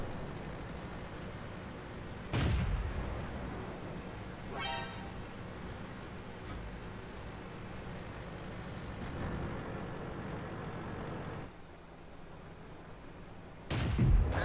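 Tank cannon shots in a tank combat video game, heard as a few sharp, loud booms spaced across the span over a steady rumbling engine and battlefield ambience, with no talking.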